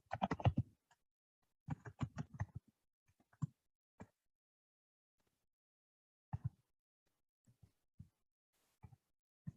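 Someone types on a computer keyboard in a quiet room, with bursts of rapid soft clicks separated by pauses and a few isolated keystrokes.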